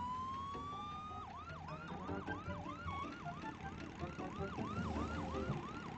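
A police car siren wails in a steady, rapid up-and-down cycle, loud and close, over a rumbling road and engine bed from a chase on a busy street.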